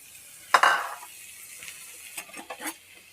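Khoya stirred and roasted in a pan on a lowered flame: one loud, sharp spoon scrape against the pan, then a few softer intermittent scrapes over a quiet background, no talking.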